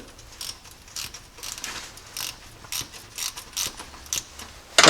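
A fastener on a Jeep wiring harness clip is tightened with a ratchet, giving a quick series of close, crisp clicks in uneven bursts and a sharper clatter at the very end.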